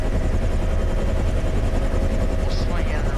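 A Bell H-1 Huey helicopter in the Aerosoft flight simulator thumps with a loud, steady rotor and engine roar throughout, close and unbroken, with a faint tonal whine rising briefly near the end.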